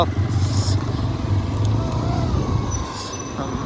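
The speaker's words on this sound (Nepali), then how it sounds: "लाइट चाहिँ उँभो बालेर बाइक चाहिँ उँधो जानु आँटेको जस्तो छ गाइज" A motorcycle engine drones past at a busy Sankranti street bazaar, its pitch sliding down as it moves away, amid traffic and crowd noise.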